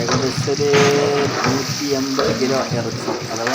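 A big batch of chicken fries in a large kadai in a wedding-house kitchen, giving a steady, close sizzle that runs throughout while someone talks over it.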